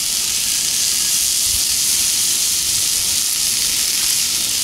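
A steak sears in a hot pan while a crust builds, giving a loud, steady, dense sizzle with constant hissing spatter and no break, close by and heard alone.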